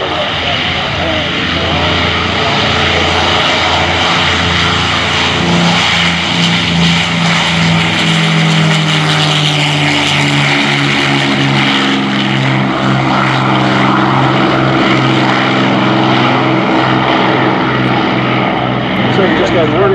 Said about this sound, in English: And right behind is the radial engine, the R2800 of the Corsair.